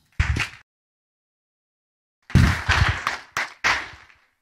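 Church congregation clapping and applauding in short bursts: one brief round, a pause of near silence, then several more rounds of close, crisp claps.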